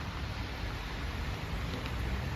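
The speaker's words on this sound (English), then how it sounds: "take cover from the rain" Steady rain falling outdoors in Coventry, England, a continuous broadband hiss with no distinct drops or voices, even and moderately loud throughout.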